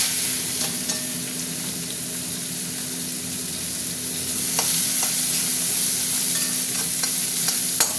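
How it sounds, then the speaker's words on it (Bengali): Onions with whole cumin fry in a pan, giving a steady close sizzle with a low hum beneath it and a few faint scrapes and clicks scattered through. "পেঁয়াজটা ভাজা ভাজা হতে থাক"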